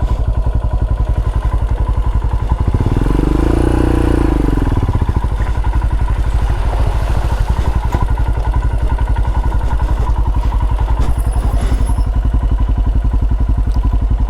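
A Royal Enfield Himalayan motorcycle on a beginner green-lane outing rides slowly, its engine a steady loud single-cylinder thrum with a brief rising rev and scattered clatter, close to the microphone throughout.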